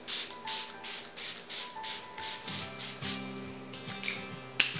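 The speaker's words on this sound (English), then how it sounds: "And just spray it on and let it dry." About ten quick, even spritzes of a face mist spray pump in a steady rhythm, close and fairly soft, with a low hum underneath.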